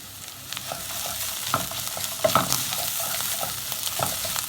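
Stuffing for a bread snack sautés in a pan, a soft close sizzle broken by irregular stirring scrapes and spoon knocks, with no talking.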